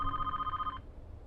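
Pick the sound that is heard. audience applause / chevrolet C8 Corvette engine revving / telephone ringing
telephone ringing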